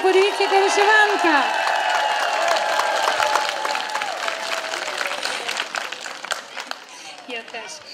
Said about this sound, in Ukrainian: Оплески пані Ірині